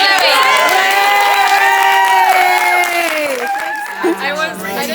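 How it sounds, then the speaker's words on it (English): A crowd at a game-show style finale cheers and claps for a contestant, with loud overlapping shouts, whoops and sustained voices riding over the applause, children's voices among them. "applause for Sophie?"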